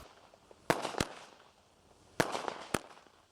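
Consumer fireworks crack outdoors in two quick pairs of sharp, loud pops, each followed by a brief crackling tail, with quiet gaps between the bursts.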